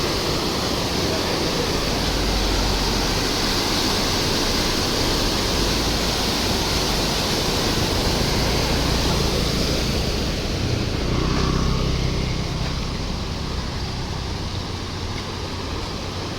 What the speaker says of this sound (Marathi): या साईडला पाण्याचा फोर्स बघा किती वाढला आहे